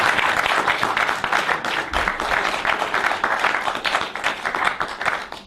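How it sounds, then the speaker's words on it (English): An audience applauds for several seconds, a dense, even patter of many hands clapping together at fairly close range. "You got to give me an applause"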